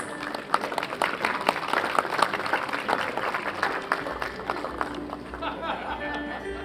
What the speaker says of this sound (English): Thank you very much for putting your hands together.